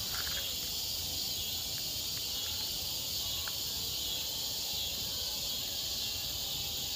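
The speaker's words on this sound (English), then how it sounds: "Sound like a beetle or a cricket," A continuous high-pitched drone of insects, like crickets, hums steadily at night in Mississippi, with faint background rustle and no voices.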